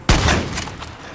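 A shotgun fires once in the video game Far Cry 6, a loud, close blast that hits hard and then rolls into a decaying rumbling tail.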